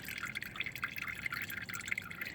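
Engine oil dripping from an Audi B5 S4 2.7T into a bucket, a faint, quick run of irregular small drips and plinks.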